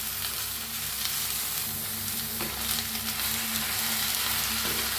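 Cooked drumstick (shevga) vegetable being stirred in a frying pan, giving a steady, close sizzle with soft scraping and shuffling throughout, no voices.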